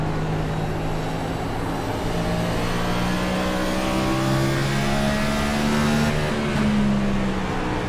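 A NextGen race car engine drones loudly and continuously on the Richmond short track, steady harmonic tones sliding up and down as it shifts and downshifts, with no talk.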